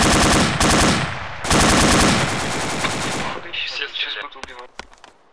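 Rapid automatic gunfire in the ArmA 2 ACE military game, loud sustained bursts shooting downward, then fading into scattered distant shots and clicks.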